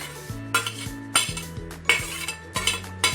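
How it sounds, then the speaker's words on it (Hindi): A spoon mixes paneer filling ingredients in a bowl, making about five rhythmic strokes of clinking and scraping against the dish, close and clear, with no voices. "तो अब इनको स्पून की हेल्प से अच्छी तरह से सभी चीज़ों को हम मिक्स कर लेते हैं।"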